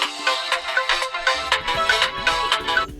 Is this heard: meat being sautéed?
no